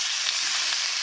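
Cabbage sizzles and fries in hot oil in a kadai, a steady dense crackle that fills the whole moment, close and loud with no voices.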